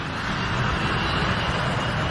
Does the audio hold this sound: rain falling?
no